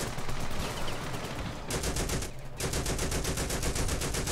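Rapid automatic gunfire in the video game Ravenfield, dense bursts of shots with a brief lull midway before the shooting resumes, loud and continuous with no talking.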